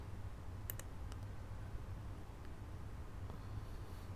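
Faint computer mouse clicks, a few crisp single and paired taps spaced over a few seconds against a quiet background hiss, with no talking.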